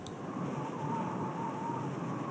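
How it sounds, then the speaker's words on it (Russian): Wind blows steadily through a scene in the video game Full Throttle, a continuous hollow rushing with a faint whistling tone, moderate in level and without any voices. "Тут еще ветер такой дует."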